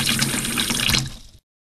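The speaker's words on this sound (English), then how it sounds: "I poured exactly 600 milliliters of water into the measuring cylinder." Water poured into a measuring cylinder, a loud close gushing splash lasting about a second before stopping abruptly into silence.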